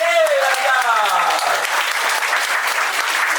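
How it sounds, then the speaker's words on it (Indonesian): Children applaud at an English and character camp, a steady, loud, dense clapping that fills the whole stretch. A voice speaks briefly at the start. "Tepuk tangan sekali lagi."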